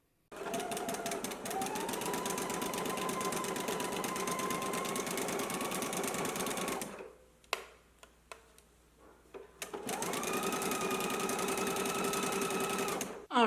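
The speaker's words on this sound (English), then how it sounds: "I'm going to go ahead to the sewing machine. I'm going to stitch using a 5/8 of an inch seam allowance" A home sewing machine stitches garment seams at a 5/8-inch seam allowance in steady, fast runs, with a loud continuous whirring hum. It pauses briefly in the middle with a few clicks, then starts running again.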